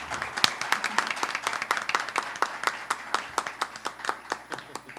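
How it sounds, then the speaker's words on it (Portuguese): An audience applauds in welcome of three speakers at a lecture on Jane Austen, with steady, rhythmic clapping that sounds close and sustained throughout. "Eu quero pedir a todos aplausos de boas-vindas às três conferencistas."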